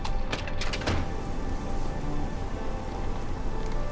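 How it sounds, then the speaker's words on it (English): Rain falls steadily in The Elder Scrolls IV: Oblivion, a dense even patter of drops on surfaces with a few brighter clicks near the start. "It's a rainy day."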